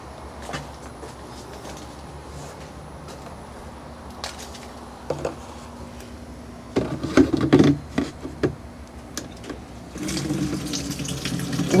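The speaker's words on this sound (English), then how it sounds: "get the water from my rain barrel to fill this up" Water from a rain barrel pours into a container in a garden, a steady trickle with irregular splashing and knocking bursts that grow louder and fuller toward the end, with no talking.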